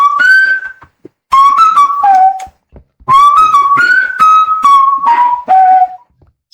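Melodic whistling in a video game, several bright phrases of rising and falling notes with short pauses between them, loud and close with no talk.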